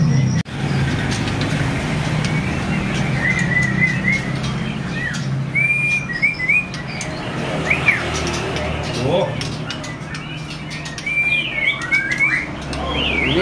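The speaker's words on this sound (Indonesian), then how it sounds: "ada burung murai apa nih Mas Bro?" Murai songbirds, split albino and panda types offered at a bird sale, whistle repeated bright chirps and song phrases over a steady low background rumble and murmur of the surroundings.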